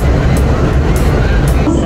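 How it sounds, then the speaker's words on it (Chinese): A subway train runs with a steady, loud rumble and rushing noise heard from inside the carriage, with no speech over it. "我现在去坐地铁去"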